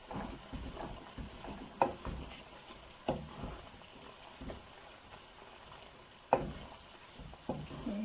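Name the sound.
stirring golden and black raisins into the pot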